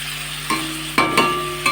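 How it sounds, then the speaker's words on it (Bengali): Chicken pieces for a chicken curry fry in a pan with a steady, close sizzle. A few sharp clatters of stirring break through the hiss, and no one speaks. "চিকেনটা মোটামুটি ফ্রাই করা হয়ে গেল"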